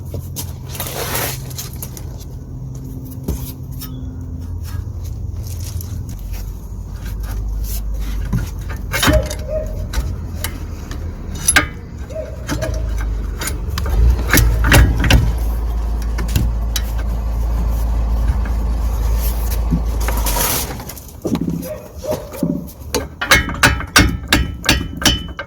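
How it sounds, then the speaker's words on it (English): Crowbar levering the lower suspension ball joint out of the hub on a Volvo XC60, giving a run of sharp metallic knocks and scraping clunks over a low steady rumble, close by, with a flurry of quick taps near the end. "we're going to use a crowbar to dislocate the ball joint"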